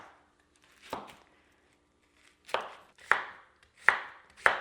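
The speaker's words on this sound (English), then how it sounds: "gonna start chopping the veggies" Vegetables are chopped on a cutting board with a knife: about five crisp, separate thunks at uneven intervals, close and clear with quiet gaps between.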